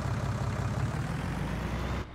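A tractor engine in Farming Simulator 19 runs with a steady low rumbling drone, close and even for about two seconds before it drops away abruptly.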